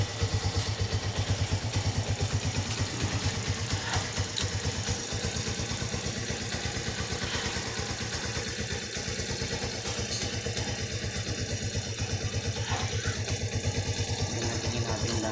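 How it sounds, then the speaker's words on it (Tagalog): A Mojo 110 motorcycle engine idling steadily at close range, a continuous low clattering putter with even rhythm throughout. "Tumahimik ang makina."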